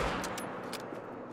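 A rifle fires at a deer in the hunting game theHunter: Call of the Wild: several sharp, loud cracks over a steady, dense wash of game ambience, with no talking.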